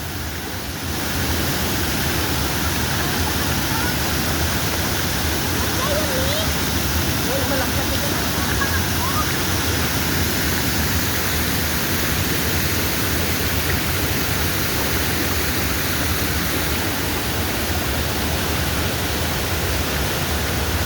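Three Falls waterfall in Santa Maria, Laguna roars as a loud, constant rush of falling water, with faint voices talking beneath it.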